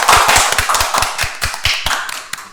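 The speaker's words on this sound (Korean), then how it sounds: "박수 주세요." Scattered clapping at the opening of an online mentoring session for a practical dance department, with distinct claps in a loose rhythm from a small group, close and fairly loud, fading slightly toward the end.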